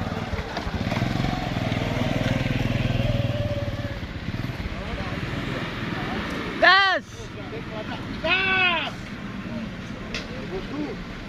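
A loaded Hino truck carrying 33 tons, stuck in a mud pit, roars at high throttle with a steady heavy engine drone, while people shout and talk over it.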